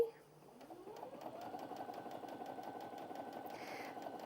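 A Brother Innov-is A50 sewing machine runs at medium speed, a steady rapid mechanical whir and needle chatter that spins up quickly and holds an even pace, close and clear.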